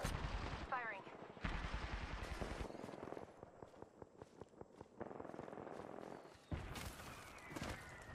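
Apex Legends gunfire in a battle: long rapid automatic bursts and single cracks, loud and close, mixed with dense game noise, and a voice briefly heard among the shots.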